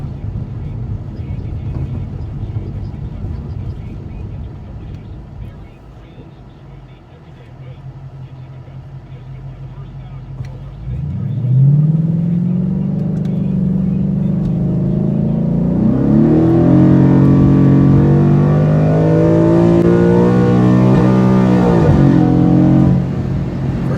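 A 2014 Ford Mustang pulls out and accelerates on a street, its engine note climbing loudly through the gears with shift breaks after a quieter idle stretch, while someone talks over it.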